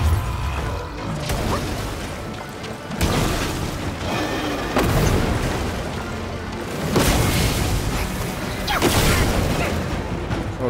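Heavy explosions from the action game Black Myth: Wukong on PS5 boom again and again over a rumbling, crashing din, loud and close, several separate blasts across the stretch with debris clatter between them.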